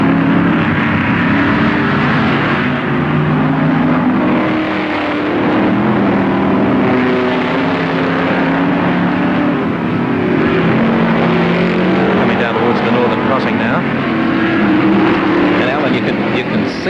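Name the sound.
Ford Falcon GTHO touring car racing at Warwick Farm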